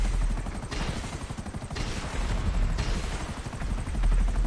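An aircraft's explosive cannon and missiles fire in a GTA video game, rapid repeated bursts of gunfire in several waves over a droning engine, loud and close.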